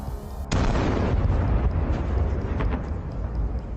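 Ammunition inside a Russian tank explodes in a sudden loud blast, followed by a sustained roaring rumble with crackling pops from the continuing detonations.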